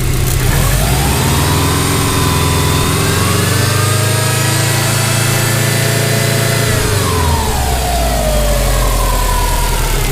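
A Subaru WRX engine running at a loud, steady idle while its coolant system is burped, a constant close drone whose pitch swells and climbs as the revs rise partway through, then eases back down, with no talking.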